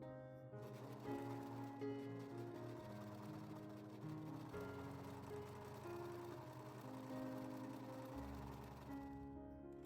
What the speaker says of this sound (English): This one I'm going to take to the serger, and I'm going to just eyeball it and serge all the way around.